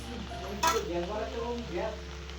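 Cabbage fries in a pan with ghee, giving a soft sizzle while a utensil stirs and scrapes against the metal, with a faint voice underneath.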